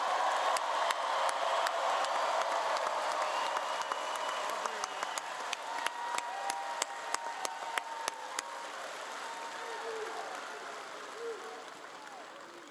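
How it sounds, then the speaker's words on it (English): Sustained applause from a large political rally audience in Louisiana, steady and full, with scattered sharper claps standing out before it slowly thins. "Let's give him another round of applause."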